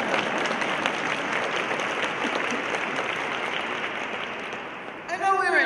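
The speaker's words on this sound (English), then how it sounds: "Yes, applause." Sustained, dense audience applause at an evening talk on prison abolition with two guest speakers, steady and loud throughout, with a voice starting to speak right at the end.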